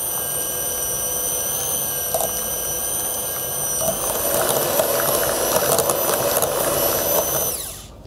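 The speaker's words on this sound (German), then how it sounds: "Die Creme wird jetzt aufgeschlagen." Cream filling for a Karpatka cake being whipped by an electric mixer, a steady loud motor whine with bright harmonics that grows rougher midway, then cuts off near the end, no talking.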